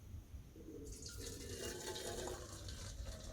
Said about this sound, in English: boiling water is poured into the teapot and the pot is rinsed out with it